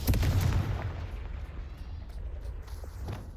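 A deep, booming blast from the Confringo fire spell in Hogwarts Legacy hits at the start and fades into a low rumble that lingers.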